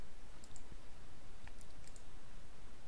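Mouse clicks while paging through web pages at a computer, a few light, sharp clicks spaced irregularly over a steady low room hiss, with no talking.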